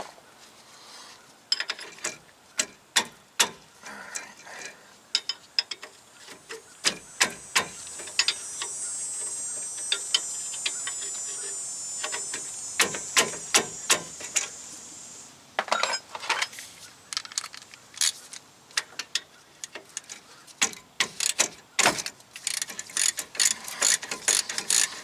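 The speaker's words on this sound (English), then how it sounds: "Be careful about backing your wrench up against something and getting it stuck." Ratchet wrench working bolts on the rear brake bracket of a 2004 GMC Sierra 2500, with bursts of rapid clicking pawl strokes, short pauses and a stretch of hissing spray in the middle.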